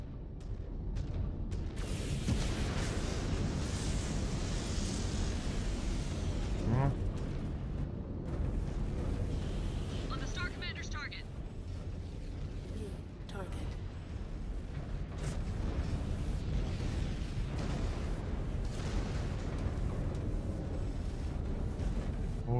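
Continuous dense rumbling of explosions and blasts in the video game MechWarrior 5: Clans, loud and steady throughout, with a few sharper bursts.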